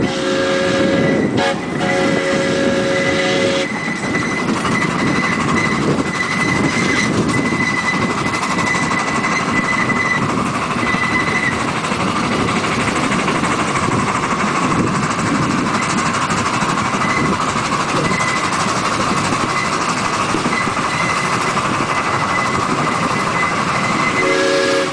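A steam train rumbles continuously along the rails of a loop line, with steady clattering and a brief horn-like tone near the start, loud and close throughout.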